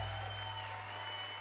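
Applause from a live esports broadcast desk at a Dota 2 tournament, a steady wash of clapping held throughout under a constant low electrical hum.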